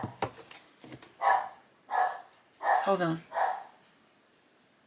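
A few short dog barks with a spoken voice briefly at the start; the barks are moderately loud and come in a loose sequence.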